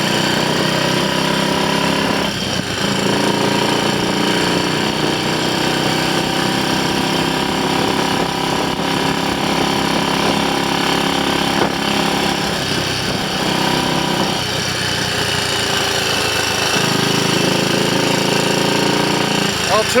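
A Triumph Scrambles Cub replica motorcycle on a test ride, carrying a carburettor from a Trials Cub, its engine a loud, steady buzzing drone with slight shifts in pitch throughout.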